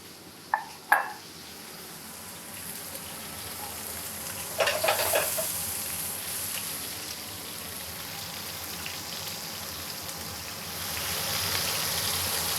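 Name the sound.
searing beef short ribs with vegetables in a pan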